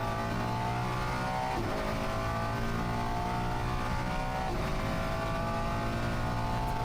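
An on-board race car engine in a Japan Cup race at Okayama drones loud and close, with steady harmonic tones and small shifts in pitch as the throttle changes, and no talk over it.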